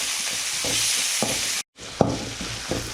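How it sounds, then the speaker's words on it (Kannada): Vegetables being stir-fried in a pan as green capsicum goes in, with a steady broadband sizzle, repeated scraping stirs, a brief pause near the middle, then sizzling and stirring resuming. "ಈಗ ಗ್ರೀನ್ ಕ್ಯಾಪ್ಸಿಕಮ್ ಹಾಕೋತಾ ಇದ್ದೀನಿ."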